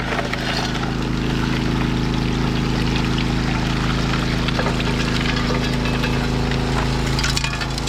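Water in a creek on a property near Athens, Michigan flows in a steady, close, full rushing wash with no break. Faint knocks and clicks surface now and then.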